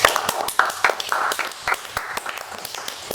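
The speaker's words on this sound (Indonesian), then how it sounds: "Tepuk tangan dulu." Scattered hand claps from a small audience at a campus talk event, a brief patchy round of clapping with sharp individual claps, close and uneven, with no speech over it.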